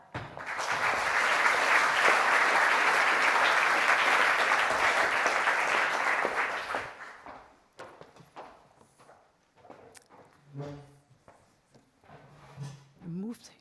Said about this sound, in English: Can I have a warm applause for Harriette Bos, Tom Schut, and Jean Nel?